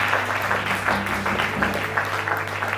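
A church congregation at a Sunday service applauds the Lord, sustained dense clapping from many hands at steady loudness, with a low hum of voices and organ-like tones underneath.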